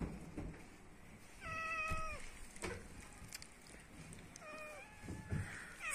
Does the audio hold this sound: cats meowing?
yes